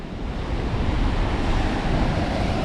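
Sea waves breaking steadily on Walney Island beach, a continuous broad wash of surf with wind buffeting the microphone throughout, loud and close with no talk.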